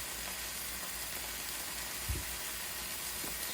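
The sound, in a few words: meat searing in a pan, sizzling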